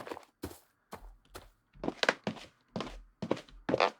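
Footsteps walking across wood in a first-person Unity game using FMOD: about ten hollow, thudding steps in a steady walking rhythm, close and clear with no voices.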